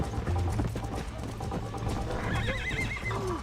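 A horse in a Wild West video game gallops with rapid clip-clop hoofbeats and snorts, then gives a loud whinny near the end, all close and clear.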